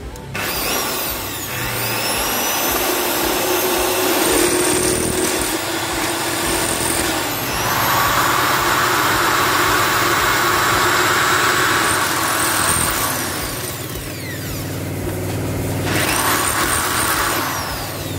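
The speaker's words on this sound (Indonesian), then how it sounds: "Selanjutnya kita lakukan proses pelubangan menggunakan bor." An electric drill with a small bit bores holes in a car while a front three-point strut bar is being fitted, giving a loud, steady whirring whine in long bursts with brief pauses and pitch shifts between them.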